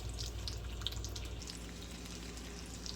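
Bacon frying in a pan for spaghetti carbonara, a faint, steady crackle with small pops and no talk.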